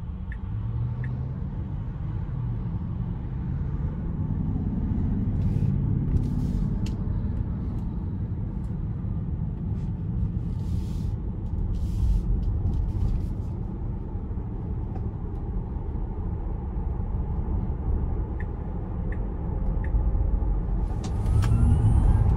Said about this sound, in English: take this Model Y Performance out on the road for a quick test drive